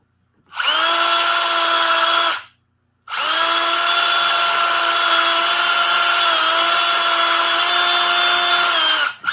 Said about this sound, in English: I gotta do some more drilling and trimming.